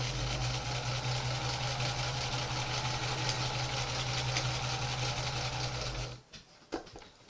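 Sewing machine stitching small Christmas quilt pieces, a loud steady motor drone with rapid needle chatter running close for about six seconds, then stopping abruptly, leaving a few small clicks and handling noises.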